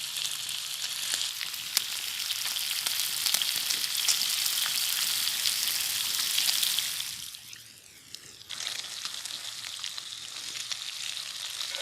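Bacon sizzles and crackles steadily in a pan over medium heat at a campsite, a dense close frying hiss with a brief dip in intensity partway through before resuming.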